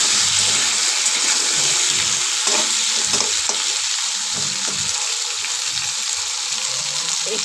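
Food frying in hot oil, a loud, steady hiss and crackle throughout with soft stirring knocks underneath and no voices.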